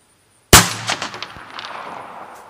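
A single sharp gunshot from a Ruger PC9 pistol-caliber carbine fired at a steel target 100 yards away, loud and sudden, followed by a ringing, decaying echo with a faint distant report.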